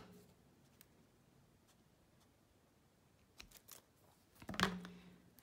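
Scissors cutting a strip of silver border paper for a Bible journal page, a quiet room with a few faint ticks, then a couple of short snips near the end, the last one louder and closer.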